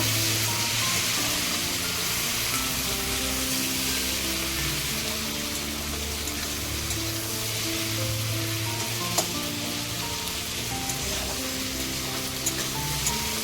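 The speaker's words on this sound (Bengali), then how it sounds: "আগে পেঁয়াজটা ভাজবো" Onions sizzle and crackle in hot oil as the base for mutton kosha, a steady close frying hiss that continues throughout with occasional stirring.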